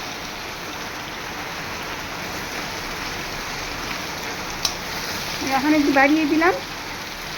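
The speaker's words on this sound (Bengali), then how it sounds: "আর বাইরে বৃষ্টি শুরু হয়ে গেছে প্রচণ্ড" Heavy rain falling outside, a steady broadband hiss throughout, with someone speaking briefly near the end over it.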